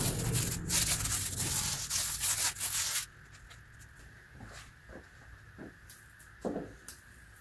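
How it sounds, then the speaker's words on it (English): A cloth soaked in rubbing alcohol wipes a telescope part, giving close, loud, rough rubbing strokes for about three seconds, then quieter scattered handling taps and rustles. "But first I'm going to clean this with rubbing alcohol to make sure it's as clean as possible."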